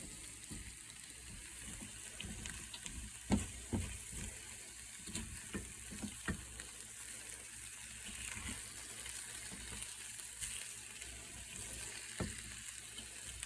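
Eggs frying in a pan, a faint steady sizzle and hiss with scattered soft clicks and scrapes of stirring, heard alone and quietly at close range.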